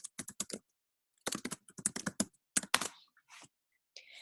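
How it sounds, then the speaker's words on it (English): Rapid bursts of computer keyboard typing with short pauses between runs of keystrokes, close and clear with no talking, as a book title is entered into an online form. "I would type in the name of the book"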